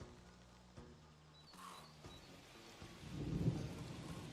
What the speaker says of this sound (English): it sounds like it's gonna rain in the game